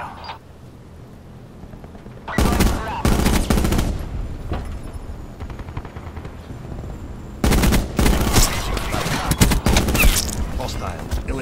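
Shooters open up in the military game Swordfish: loud, dense volleys of rapid gunfire come in two separate bursts, each several seconds long, with radio voices between them.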